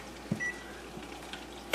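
A kitchen timer sets off a few short, faint electronic beeps spread over under two seconds, close by in a quiet room.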